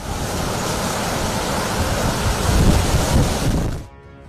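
A violent windstorm with heavy rain in Delhi NCR, a loud, dense roaring wash that holds steady and swells slightly before dropping away at the end.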